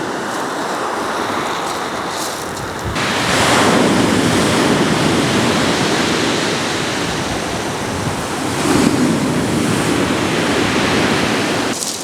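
Steady roar of surf at Lulworth Cove with waves washing in on an incoming tide, swelling louder around the middle, mixed with strong gusty wind buffeting the microphone.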